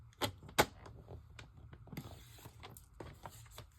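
A paper trimmer slices a 5 by 7 inch sheet with a series of close, dry mechanical clicks and rasping cuts at an uneven rhythm, fairly quiet, with no voices.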